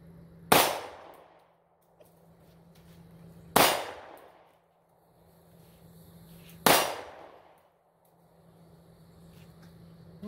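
Three sharp gunshots from a Springfield Hellcat pistol fitted with a Sig Romeo 0 sight, evenly spaced about three seconds apart outdoors, each a loud crack with a short decaying echo.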